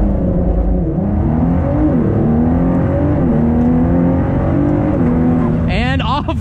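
A 2019 Ford GT's engine roars loud and close as it revs and accelerates hard from a launch, a steady sustained drone with shifting pitch and a brief tire-like squeal near the end.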